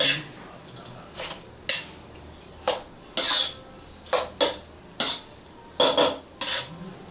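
Rice-dumpling filling being stir-fried in a pan, a spatula scraping and clanking against the metal in about ten separate strokes at an irregular pace, close and fairly loud with quiet gaps between.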